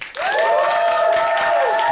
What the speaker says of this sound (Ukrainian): І так, ваші оплески, Роман Небо.